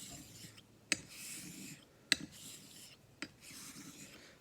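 Straight razor, a Dubl Duck Dwarf, drawn lightly across a Naniwa Super Stone whetstone to join a 5K bevel, giving faint soft rasping strokes with a few sharper clicks, quiet and close with no talking.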